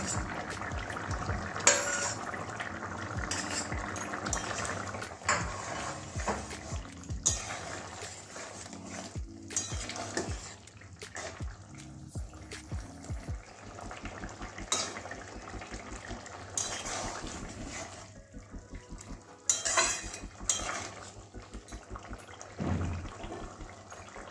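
Fried okra (bhindi) goes into a pot of potato and soybean curry, giving uneven wet clatters and stirring scrapes of a spoon against the metal pot, with intermittent louder knocks.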